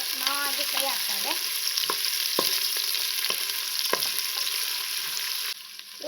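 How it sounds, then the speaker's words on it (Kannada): Onions and ginger fry in a pan for prawn biryani, giving a loud, continuous close sizzle broken by the occasional scrape and tap of a stirring spoon. "ನೋಡಿ ಫ್ರೆಂಡ್ಸ್, ಇವಾಗ ಚೆನ್ನಾಗಿ ಫ್ರೈ ಆಗ್ತಾ ಇದೆ."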